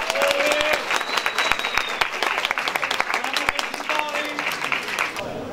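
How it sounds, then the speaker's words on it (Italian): An audience at the inauguration of a former slaughterhouse breaks into dense, sustained applause that carries on steadily throughout, with a few voices rising over the clapping. "Un bel applauso, grazie."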